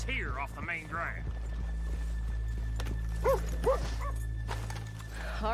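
Horses whinny and snort nearby in Red Dead Redemption II over a steady low hum, with a brief clip-clop of movement.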